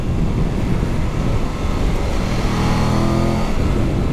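Triumph Tiger 1200 GT Pro motorcycle engine under throttle, a loud steady drone with wind rush, the pitch climbing briefly toward the end as it accelerates.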